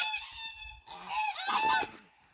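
Geese on a sunny farm give a few loud, close honks, a nasal call followed by a louder overlapping burst, heard alone.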